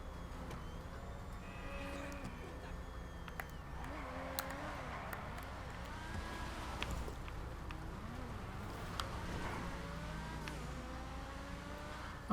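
A McLaren F1 engine in the video game GTA 5 revs and accelerates through repeated gear shifts, its pitch rising and dropping steadily with a faint, processed game-like tone.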